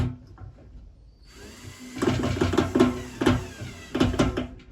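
A power drill bores down through a new Crayford focuser being fitted to a Newtonian telescope, whining in several short bursts after a quiet start, close and loud.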